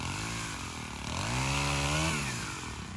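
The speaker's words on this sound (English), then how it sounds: "Good thing about the pole saws is" Pole saw cutting tree limbs during hurricane restoration work on power lines, a steady, loud buzzing engine whine that rises in pitch midway and then settles, close by with no talk.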